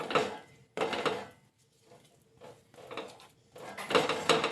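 Hot sesame brittle mixture is stirred in a pan, giving bursts of scraping and clattering against the metal that come and go over a few seconds, close by with no talk.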